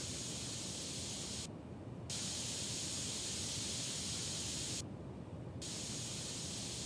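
Cleaning spray hissing in PC Building Simulator 2, a steady broadband hiss running almost continuously for several seconds with two brief pauses, close and even in level.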